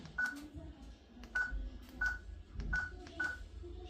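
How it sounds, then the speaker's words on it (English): Smart door lock keypad beeping as a passcode is entered, a series of short, faint electronic tones spaced at an uneven rhythm, each a separate keypress. "press number 3 and unlock button, dial your passcode"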